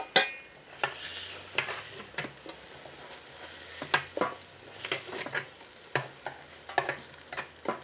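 Chicken browning in a pan, with a soft, constant sizzle beneath repeated scraping and clinking stirs from a utensil against the pan, close by and without talk.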